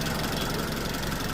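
A Chevrolet Captiva's 2.4 naturally aspirated engine runs steadily at idle, a close, even mechanical hum with a light ticking texture and no voices.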